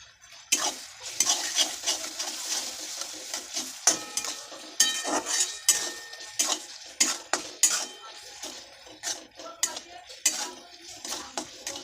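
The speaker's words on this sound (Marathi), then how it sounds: "मसाले छान आपण परतून घेतलेले आहेत." Red chili powder and garam masala sautéing in a pan for cauliflower curry, with frequent quick metal spoon scrapes and clinks against the pan over a soft frying hiss, close up and without talk.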